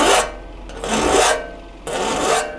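Three slow, rasping file strokes across the teeth of an old two-man crosscut saw, each a broad scratchy push lasting about half a second, close and steady, no voices.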